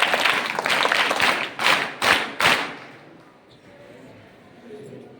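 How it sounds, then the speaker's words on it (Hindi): Applause for the children from a school crowd at a student parade and performance event. A dense patch of clapping is followed by a few sharp, loud claps, and then it fades to quiet room noise. "एक बार जोरदार तालियां बच्चों के लिए।"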